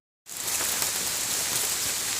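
Heavy monsoon rain pours down steadily on a road that has turned into a flowing stream, a dense, loud hiss of drops starting abruptly and continuing without pause, no voices.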